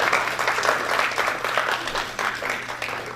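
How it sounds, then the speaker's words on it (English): Audience applause at a primary school public speaking competition in Tobago, a steady, dense wash of clapping from many hands that carries on throughout without pause. "We continue to keep those hands clapping for all of you, for all of our participants today."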